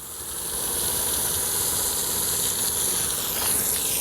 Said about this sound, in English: I'm going to take my fireman hose nozzle.